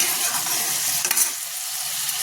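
A steady, bright sizzle of ripe papaya stir-frying in a pan, close and even, with one brief stirring scrape partway through.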